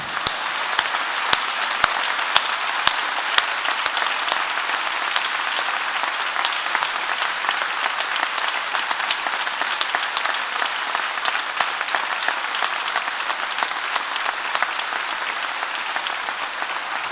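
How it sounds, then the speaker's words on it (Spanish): Long, sustained applause from a concert audience after a performance of Les Misérables by a school group, a thick continuous clatter of many hands with scattered sharper claps standing out, steady throughout. "Un aplaudiment per tots."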